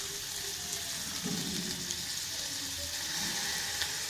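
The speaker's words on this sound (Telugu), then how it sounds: "ఉల్లిగడ్డ కొన్ని ఫ్రై చేసుకోవాలి" Onions fry in oil in a home kitchen while a breakfast dosa is being made, a steady, soft sizzling hiss that carries on without a break and without any voices.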